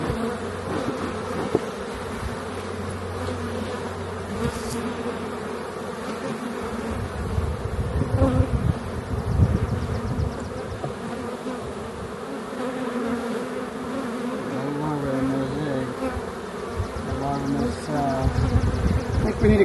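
Honey bees buzzing in an open hive during a queen-rearing inspection, a dense steady drone close by and loud throughout, with people talking intermittently over it.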